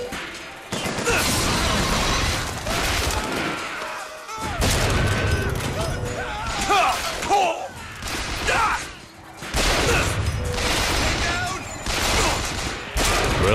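Heavy bursts of gunfire in BioShock Infinite, loud sustained volleys with crashes and booms, broken by brief quieter gaps, up close and continuous through most of the stretch, with no talk.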